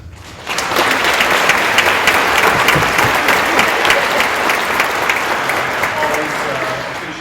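Applause at a high school senior awards ceremony swells in abruptly and holds as a loud, even patter of many hands from a large audience, fading slightly near the end.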